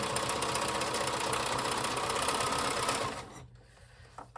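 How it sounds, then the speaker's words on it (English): A sewing machine runs steadily along the edge of a bag pocket, a close mechanical whir with rapid rhythmic stitching that stops abruptly near the end, leaving quiet handling noise. "I'm going to sew from this side and make sure I catch it so that it stays in place for me later"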